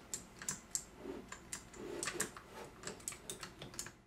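Rapid, irregular keystrokes clatter on a Bloody B975 mechanical gaming keyboard, close and crisp, with short bursts and brief pauses and no voices.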